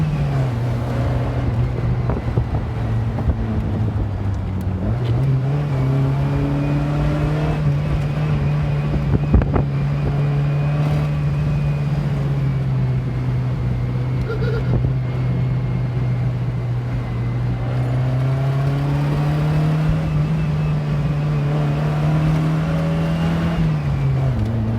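Small car drives along a country road, its engine droning steadily and rising in pitch as it accelerates, with wind rushing past the microphone throughout.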